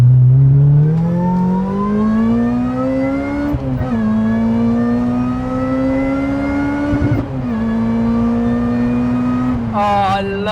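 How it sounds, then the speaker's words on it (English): A supercharged, methanol-injected Honda Civic EP3 Type R engine revs loudly and close, its pitch climbing and dropping through several gear pulls with a whining supercharger note over the engine growl. "Oh, I love the noise of the supercharger, man."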